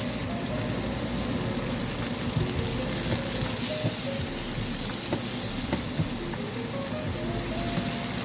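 Orange and green peppers sizzling in butter with paneer in a pan, a steady dense crackle with scattered pops that carries on without a break and without any talking.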